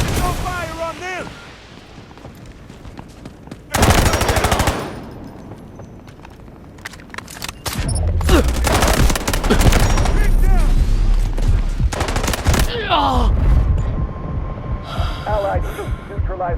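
Gunfire in the mobile shooter Delta Force Mobile, likely from a K437 rifle: loud sustained bursts around 4 seconds and again through the middle stretch, mixed with explosive booms and in-game voice callouts.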